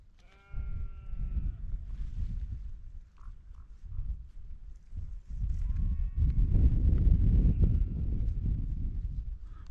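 Sheep bleating on a high Welsh hillside above a valley at a wild camp, a few drawn-out bleats early and again midway, carried over steady wind buffeting and rustle close by.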